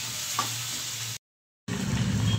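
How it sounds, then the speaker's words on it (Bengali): Vegetables fry in a pan for semolina upma, a close, steady sizzle with low stirring rumble that cuts to a brief silence before resuming louder, with no voices. "এখন কিছুটা ফ্রাই করতে হবে।"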